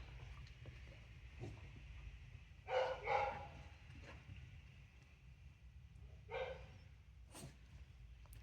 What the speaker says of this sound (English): What's that dog saying?